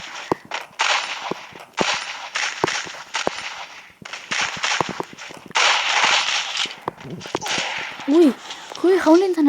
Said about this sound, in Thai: ผมแค่กระโดดยิงฮะผมกระโดดยิงตลอดเวลา